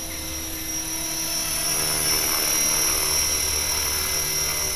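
An LH-450bb radio-controlled electric helicopter runs in, its rotor and motor giving a steady, loud, high whine that swells slightly midway and holds constant throughout.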